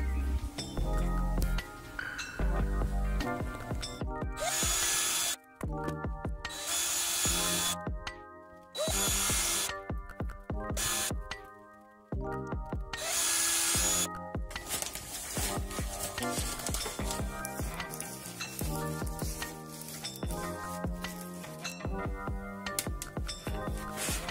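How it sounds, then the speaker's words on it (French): Loud, continuous whirring of a power drill boring through cork stoppers for a stunt kite, with repeated bursts and pauses, plus clinking contact sounds, close up. "Et maintenant on va percer les bouchons en liège avec la perceuse"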